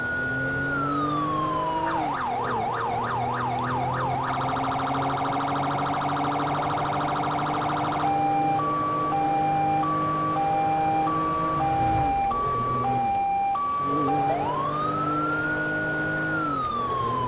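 A police car siren in Grand Theft Auto V wails loudly and continuously, shifting from a rising-falling wail to rapid yelp bursts and then a two-tone hi-lo pattern over a steady engine drone.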